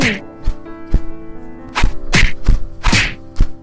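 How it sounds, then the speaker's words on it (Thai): A flurry of sharp whacks and thuds land in an irregular rhythm, a fight-style sequence of blows with grunting voice-like sounds mixed in. "เสียงต่อสู้"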